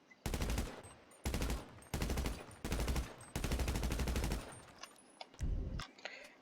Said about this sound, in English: Now, just to give you guys 20 rounds at fully automatic.